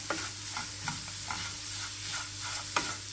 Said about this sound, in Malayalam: തേങ്ങയും പഞ്ചസാരയും പഴവും എല്ലാം കൂടെ മിക്സ് ചെയ്തിട്ട് ഒരു രണ്ട് മിനിറ്റ് നേരം ഇതിലൊന്നിട്ടിട്ട് ചൂടാക്കിയെടുക്കുക